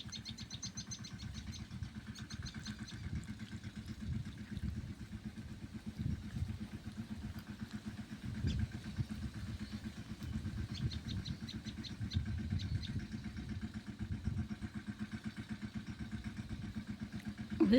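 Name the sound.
small tractor engine running in field for sowing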